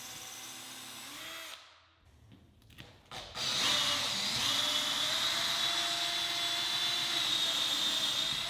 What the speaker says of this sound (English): I drilled a pilot hole for the top bolt first, and then stepped up to a 7/16 inch hole